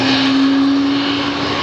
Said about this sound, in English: they're going to take the runway now